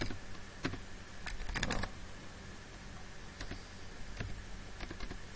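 A command being typed on a computer keyboard: scattered soft key clicks at an uneven pace, quiet and close, with a brief cluster of faster taps partway through.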